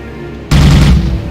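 Chatter cannon firing in the space combat game Tachyon: The Fringe, a sudden loud burst of rapid gunfire that starts abruptly and keeps rattling close up for under a second before easing slightly.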